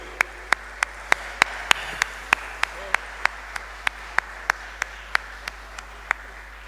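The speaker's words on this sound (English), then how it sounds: "Let's give a round of applause once more again." A single person claps steadily at the Democratic Labour Party conference, about twenty sharp, evenly spaced claps heard close up over a low background hum.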